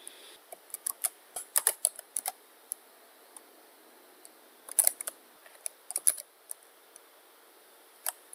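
Someone types on a computer keyboard while entering commands in Macromedia Flash. Sharp key clicks come in quick bursts with short pauses between them, close and fairly quiet, with no talking.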